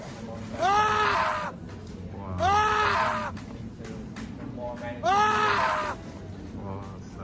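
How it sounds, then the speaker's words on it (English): A human voice lets out comical screams as a puppet's strings are pulled in a video game: three loud, drawn-out wavering cries, each lasting about a second, separated by short pauses over low background noise. "As the strings are being pulled, a human voice emits a comical scream, implying the virtual character's discomfort with being stretched."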